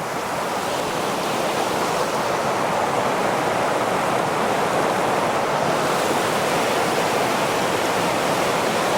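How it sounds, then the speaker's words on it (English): A river flows past at close range, producing a dense, unbroken rushing roar that holds steady and loud throughout, with no voices over it. "I love the sound of the river"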